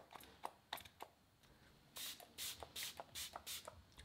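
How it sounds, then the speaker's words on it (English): Several short, quiet bursts of coconut-scented aerosol spray hiss in quick succession, preceded by soft handling clicks and rustles. "Let me use it to spray here once."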